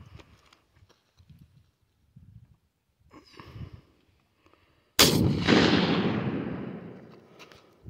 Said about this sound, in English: second time shooting my Howdah 20 gauge shotgun pistol